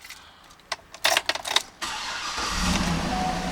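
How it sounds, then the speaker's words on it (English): A black 2008 Cadillac Escalade ESV AWD starts up: a few clicks and a brief cranking burst, then the engine catches and settles into a steady, close idle that swells slightly. "Let me go ahead and start the car now"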